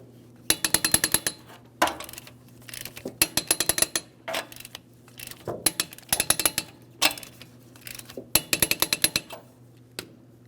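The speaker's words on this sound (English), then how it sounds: "now I'm going to torque these to 76 foot-pounds in a crisscross manner" A torque wrench ratchets in quick, repeated clicking bursts while tightening lug nuts on a 2003-2008 Toyota Matrix wheel, about eight bursts separated by short pauses, close and clear with no speech.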